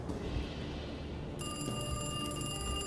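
A telephone rings in the video game Alone in the Dark, a bright electronic trill that starts partway through and keeps sounding steadily over a low ambient background.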